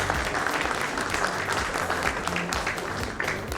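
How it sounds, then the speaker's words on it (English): An audience at a logistics conference inaugural session applauds steadily, a dense, continuous patter of many hands clapping at moderate volume for a few seconds. "Please have a round of applause for all our dignitaries."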